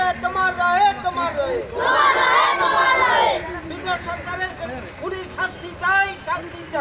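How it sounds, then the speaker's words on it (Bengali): A crowd of Trinamool supporters shouts protest slogans at a road blockade in Habra, West Bengal, with loud, continuous chanting voices and a rising collective cry in the middle, close and dense throughout. "স্লোগান দিতে থাকেন স্থানীয় তৃণমূল সমর্থক"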